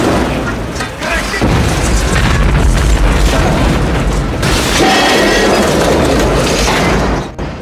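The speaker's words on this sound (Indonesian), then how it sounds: "granat pun meledak" A loud, sustained grenade blast from the film Virus (1999) rumbles through the whole passage amid clattering debris and mechanical noise, with a voice faintly mixed in beneath.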